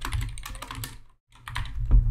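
Brisk typing on a computer keyboard to enter a macro name in Keyboard Maestro: rapid close clicking keystrokes, a brief silent pause, then another quick burst of keys.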